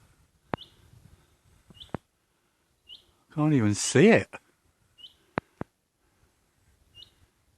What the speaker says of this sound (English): Can anyone identify that bird?